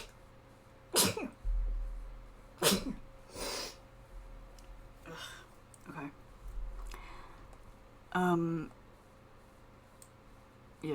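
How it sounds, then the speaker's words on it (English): A person sneezes at close range at a desk, with a few sharp bursts, snorts and breaths spaced out over quiet room tone. "I need to sneeze."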